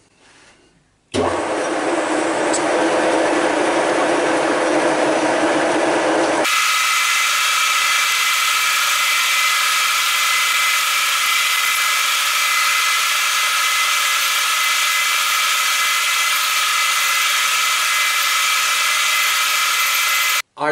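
A lathe runs with its cutting tool taking a very light second cut of a tenth of a millimetre, a steady loud machine whine that shifts to a higher, brighter hiss partway through and continues to the end.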